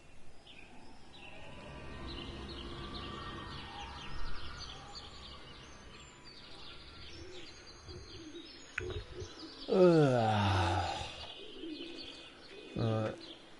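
Birdsong from Everybody's Gone to the Rapture: pigeon-like cooing and chirps run faintly through a quiet outdoor game ambience, then two louder, nearer calls rise sharply toward the end.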